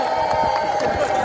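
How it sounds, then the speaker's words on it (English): A city-centre crowd cheers and claps after a bird is rescued, a dense, steady roar of voices and whoops under talk, with a strong hum running through it. "you can hear the crowd cheering now"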